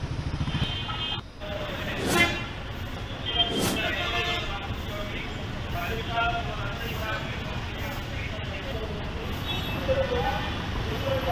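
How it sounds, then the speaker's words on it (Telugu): Heavy traffic jam at the Alipiri checkpoint in Tirupati: a continuous low rumble of idling and creeping vehicles, with a couple of brief sharper bursts and faint background voices. "ట్రాఫిక్ జామ్ లో ఇరుక్కుపోవాల్సి వస్తోంది."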